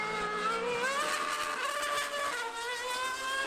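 A race car engine revs at a high, steady pitch, a loud continuous buzzing drone that rises slightly and holds close throughout, with no talking.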